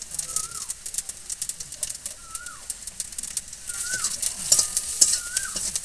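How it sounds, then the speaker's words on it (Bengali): Onion and green chilies sizzle in hot oil, a steady crackle with scattered stirring sounds, while birds, likely doves, coo repeatedly in the background, suggesting an outdoor village kitchen. "এবার পেঁয়াজ আর কাঁচা লঙ্কাটাকে একটু ভেজে নেব"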